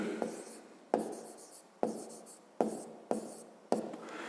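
Marker or chalk taps and strokes on a board during a fifth-grade math lesson, about six crisp contacts spaced unevenly, each trailing into a soft scratch, with no one speaking.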